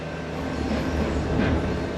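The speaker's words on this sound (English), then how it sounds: "I think this is the new what's the name train?" A new suburban train passes through Mordialloc station, a steady broadband rumble of wheels and carriages at moderate distance, swelling slightly midway with no talking.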